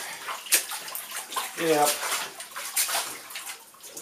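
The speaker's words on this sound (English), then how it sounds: "I'm squashing laundry." Laundry squashed by foot in an old bathtub full of water makes close, sloshing splashes and squelches in uneven surges, with a brief spoken word partway through.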